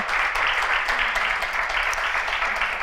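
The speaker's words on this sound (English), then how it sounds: "Can we give them a warm round of applause?" An audience gives a warm round of applause at a spring season closing ceremony. Dense, even clapping continues steadily from start to finish with no talk over it.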